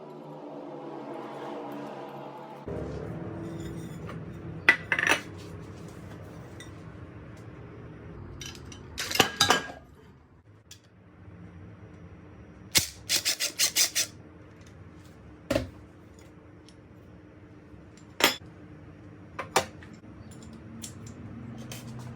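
8-inch metal pans are handled and shifted, giving scattered sharp clinks and scraping rubs amid quiet stretches, close and intermittent.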